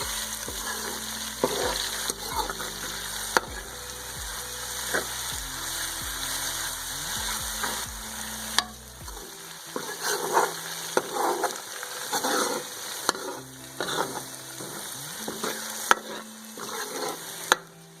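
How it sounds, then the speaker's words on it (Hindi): Ginger garlic paste frying in a pot for chicken yakhni pulao, a crackling sizzle with sharp stirring clicks, over background music that drops out midway, no talk. "अब इसको अच्छे से फ्राई करेंगे यहाँ तक कि अदरक लहसुन की स्मेल बाकी ना रहे।"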